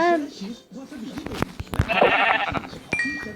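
A Minecraft sheep bleats at the start, a short wavering blocky game cry, followed by game clicks and footsteps while someone talks excitedly over the gameplay.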